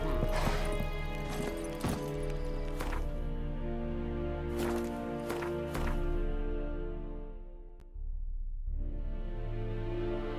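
Horse hooves clattering in The Witcher 3, a rapid rhythmic clip-clop with heavy thuds, loud and close, fading briefly before resuming near the end.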